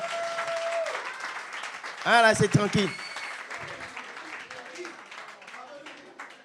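Audience applause bursts out at a French comedy club show, a short loud swell of clapping in a room, with a voice talking over it before and after.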